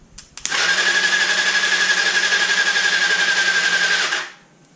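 With the solenoid bypassed, the starter motor on a Honda CBR250R MC19 motorcycle cranks in one steady, loud whirring run of about four seconds after a couple of clicks, then winds down and stops.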